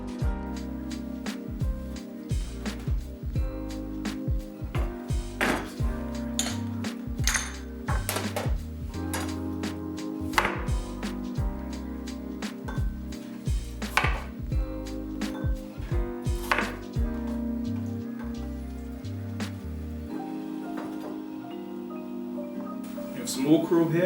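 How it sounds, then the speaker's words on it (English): A knife cutting pearl onions in half on a board, giving repeated sharp knocks and clicks at an uneven pace through the whole stretch while soft background music plays. "Now we're just gonna cut these in half."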